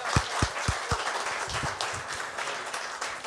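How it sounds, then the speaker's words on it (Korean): Applause at a Tuesday prayer meeting of a church men's fellowship, beginning with a few distinct claps that merge into a modest, fairly soft round of clapping from a small gathering. "그래서 박수 한번"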